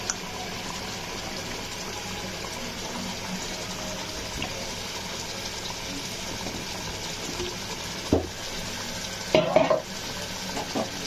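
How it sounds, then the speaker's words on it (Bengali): Chicken roast pieces frying and being stirred in a cooked-down spice paste, a steady close sizzle with soft scraping and a couple of louder clatters near the end. "এখন আমি এর মাঝে দিয়ে দিব আমার রোস্টগুলো।"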